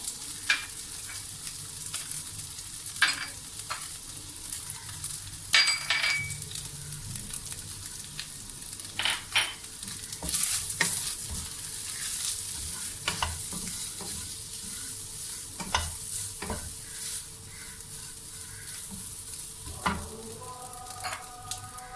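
Chicken tossed with masala in a hot pan for Karachi-style samosa filling sizzles steadily, with scraping stirs and clinks from a utensil scattered throughout.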